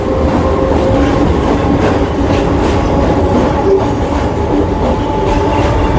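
Kolkata Circular Rail local train between Sealdah and BBD Bag running on a single line, a loud, steady rumble of wheels and carriages with light clickety-clack from the rails.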